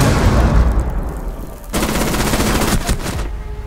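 Rapid automatic gunfire in Rainbow Six Siege on the Park map during a Secure Area team deathmatch, a loud sustained burst followed after a brief lull by more dense firing, with no talk over it.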